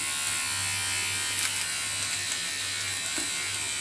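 An electric trimmer buzzes steadily while cutting nasal hair, a close, continuous high whirr with small fluctuations and no pauses.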